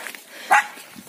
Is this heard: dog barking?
yes